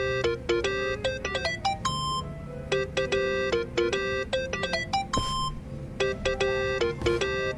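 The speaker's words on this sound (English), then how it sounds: "That's your phone, man." A phone ringtone in Yakuza: Like a Dragon chimes in repeated bright melodic bursts with short gaps between them, clear and up close over a low game background hum.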